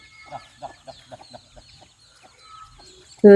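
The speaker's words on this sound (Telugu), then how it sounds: "చూడండి కోడి పిల్లల కోళ్ళు కూడా చాలా ఉన్నాయన్నమాట" Chickens cluck in a short series of soft, rhythmic clucks nearby, then fade, ending with a sudden loud burst.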